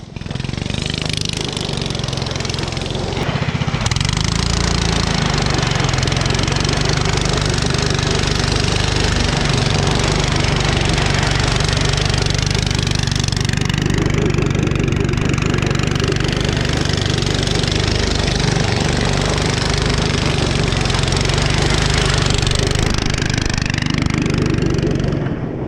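A small engine runs at full throttle, a loud, sustained, close roar that barely varies for nearly the whole stretch, with a brief dip near the start.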